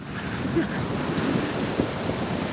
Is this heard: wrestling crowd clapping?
no